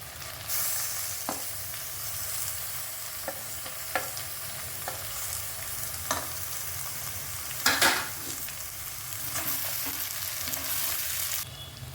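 Tomato added to potatoes frying in a pan makes a loud, continuous sizzle close by, broken by occasional scrapes and taps of a spoon stirring against the pan.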